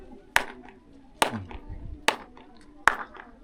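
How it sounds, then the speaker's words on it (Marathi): Four sharp hand claps, evenly spaced, ring out in the stone royal court of Raigad fort, each followed by a brief echo off the surrounding walls, with faint murmur between. "एक टाळी वाजवतो, टाळीचा आवाज चारही कोपऱ्यातून आवाज वापस ऐकायला येतो बघा."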